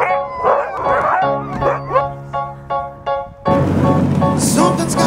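Sled dogs in Lapland bark, yip and howl together, a close, loud chorus of overlapping barks and drawn-out howls that continues without a break, joined near the end by a louder, noisier burst.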